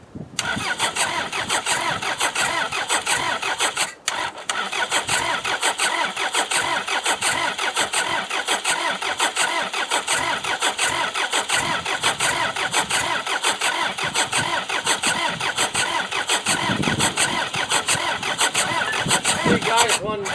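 A worn-out car struggling through a failed cold start, its starter cranking in a long, rapid, rhythmic churn that never catches, with people talking over it.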